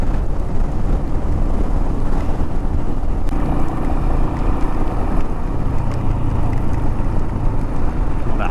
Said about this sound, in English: The wind is whooping up.